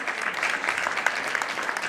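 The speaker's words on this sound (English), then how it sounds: "A big round of applause for Pooja Mahindra," Steady, moderately distant applause from the audience at an artist appreciation gala, a dense patter of many hands clapping at once for a short stretch.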